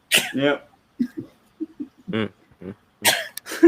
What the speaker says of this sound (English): Sneezing, my allergies on steroids.